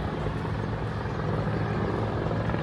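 A helicopter flies overhead along a closed highway, a steady, loud rotor and engine roar that fills the whole stretch without pause.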